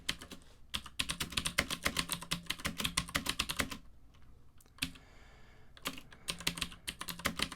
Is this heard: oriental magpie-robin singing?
no